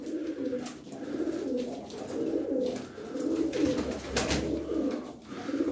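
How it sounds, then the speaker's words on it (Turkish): Pigeons cooing in a loft holding about a dozen birds, repeated soft throaty coos overlapping in a steady rhythmic murmur, fairly close with faint background rustle. "On iki tane kuş var abiler burada."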